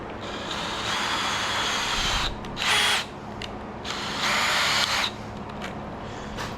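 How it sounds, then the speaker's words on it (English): A power drill whines in sustained bursts against a Hurst shifter made of hard metal, pausing and revving again, loud and close. "Tell me I can't drill through that"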